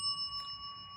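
A bell rings with a clear, sustained metallic tone that holds steady and fairly faint for the whole second, over a low room hum.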